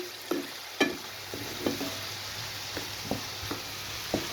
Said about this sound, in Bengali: আমার চিংড়ি মাছ ভুনা ভাজাটাও হচ্ছে